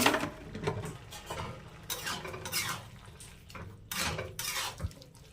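A spoon works through bottle gourd greens with sugar in a pan, giving a sequence of scraping, clinking strokes against the metal over a quiet, low simmering hiss, close and intermittent, with no voices.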